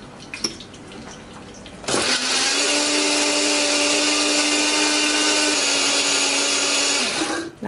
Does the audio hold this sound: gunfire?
no